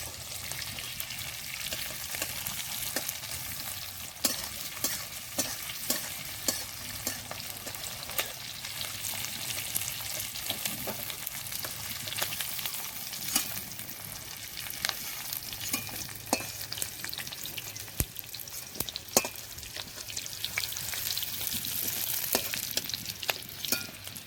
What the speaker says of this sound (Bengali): পেঁয়াজের পাপড়ি একটু হালকা করে ভেজে নিতে হবে।